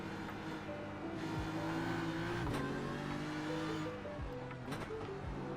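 A GT4 race car engine revs on the Nürburgring in iRacing VR, droning steadily with pitch rising and dropping through gear shifts, loud and close, with no talk.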